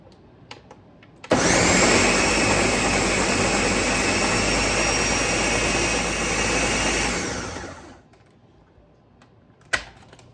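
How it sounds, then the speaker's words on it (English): A Ninja blender running on salsa ingredients gives a loud, steady whirring roar for about six seconds that winds down to a stop, followed by a sharp clunk. "I love this blender. It's a Ninja."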